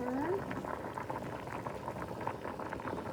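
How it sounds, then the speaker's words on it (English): A pot of water for Kraft Dinner macaroni boils at a steady roll on the stove, with continuous bubbling and popping, fairly quiet and with no talking. "So it's boiling a lot now"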